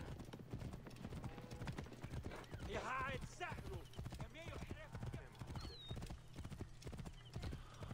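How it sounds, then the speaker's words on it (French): Horse hooves galloping in rapid, steady clip-clop beats during a ride in Assassin's Creed Origins, close and continuous, with a brief whinny and a voice talking over the riding. "On va y aller en cheval"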